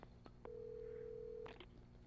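A telephone in the Alan Wake video game gives a few short clicks, then a steady tone lasting about a second, followed by brief dialing beeps, all fairly quiet against a low background hum.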